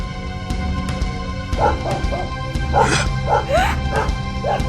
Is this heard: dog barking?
yes